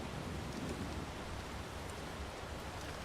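Steady broadband rain hiss from the ARK Survival Ascended game world, continuous and fairly even at a moderate level with a low rumbling layer beneath, no voices.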